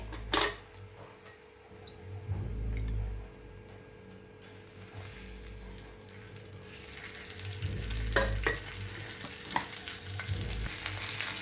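Green chillies fry in oil in a pan with a constant soft sizzle, punctuated by sharp metallic clinks and scrapes of a utensil against the pan and low thuds.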